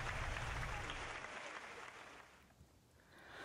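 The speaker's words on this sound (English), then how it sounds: "Let's have a round of applause for all of our service and club award winners." An audience applauds award winners at a senior achievement awards ceremony, a fairly quiet, distant round of clapping that fades out after a couple of seconds.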